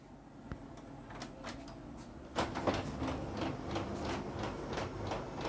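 Canon imageClass LBP214DW laser printer with a paper jam, giving off a series of irregular knocking and ticking mechanical clicks that grow louder midway, heard close up over a steady motor hum.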